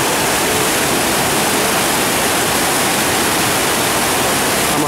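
Fast river current after a flood, a loud, constant broadband roar of rushing water heard close, steady throughout with no voices.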